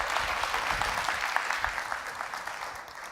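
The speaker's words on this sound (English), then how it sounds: "let's just give everybody an applause for showing up today" A crowd at the S.H.E Summit, a women's corporate leadership event, gives a sustained round of applause: a thick, even wash of many hands clapping at moderate volume, with no voices.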